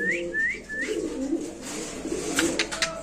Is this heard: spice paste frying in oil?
no